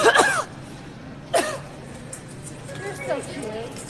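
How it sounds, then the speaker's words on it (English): A woman coughs and clears her throat in short, harsh bursts, one near the start and another a second later, then fainter throaty sounds over a murmuring background. "She's coughing at me."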